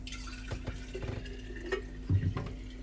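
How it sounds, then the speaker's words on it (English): Iced tea pours and splashes into a half-gallon jar over a sink with a watery, trickling sound, ending in a brief louder glug near the close; no talking. "Pour her in. I do it over the sink so I don't make a mess."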